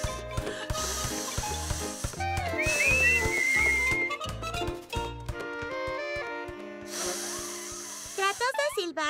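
Cartoon rabbit Max whistles in a short, wavering, thin tone amid an animated scene with background music and sound effects, and characters talk around it.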